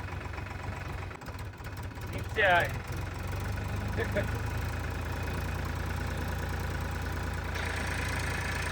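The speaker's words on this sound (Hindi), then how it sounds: "सागर हम ट्रैक्टर चला रहा है।" A low tractor engine idles and chugs steadily throughout, with a brief voice and a few clanks partway through.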